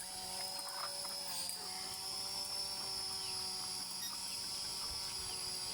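A homemade DIY drone's propellers whine in a steady, high-pitched buzz, fairly faint and distant, holding continuously with slight wavering throughout.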